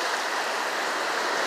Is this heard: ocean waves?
yes